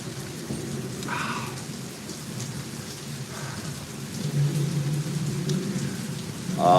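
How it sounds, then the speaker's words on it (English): Steady rain falls with deep thunder rumbling in waves beneath it, moderately loud, and no voices are heard. "I don't know if you can all hear the rain."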